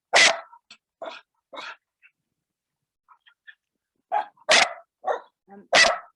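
A dog barks repeatedly during a home yoga class, with sharp, fairly close barks arriving in two clusters separated by a quiet gap.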